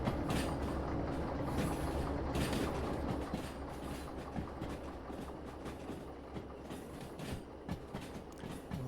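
A freight train in Derail Valley rolls along the rails with a continuous rumbling clatter and rhythmic wheel clicks, loud at first then settling slightly, heard alone without talk.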